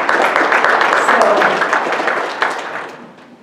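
Lecture audience applauding in a hall, a dense steady wash of many hands clapping that holds loud for a couple of seconds, then thins and fades out.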